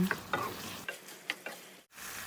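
Pork belly with red curry paste, kaffir lime leaves and blanched long beans is stir-fried in a pan, a loud close sizzle broken by several quick scraping tosses in a short burst.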